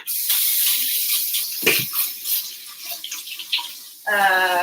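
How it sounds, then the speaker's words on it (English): Tap water runs into and rinses a big empty bowl at a sink, a steady rush with splashing, while a person talks over it. "I'm rinsing off this big empty bowl."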